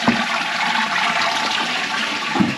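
A toilet flushes and the cistern refills after plumbing work, a loud, steady close rush of water with no talking over it.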